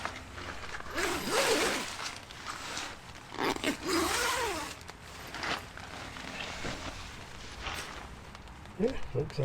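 Tent zipper at a winter camp at -4°C, pulled in several quick rasping strokes with pauses between, close by, mixed with rustling of fabric and some talk.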